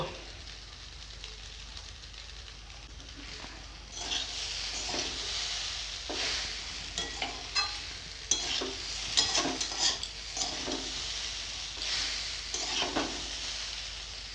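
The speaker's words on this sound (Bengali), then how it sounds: "সিদ্ধ করা চাউমিনগুলো দিয়ে দেব ভেজে রাখা ডিমগুলো দিয়ে দিব" Boiled chow mein noodles and fried eggs being stir-fried in a home kitchen pan, with a low background sizzle broken by repeated scraping and tossing bursts that grow busier and louder partway through.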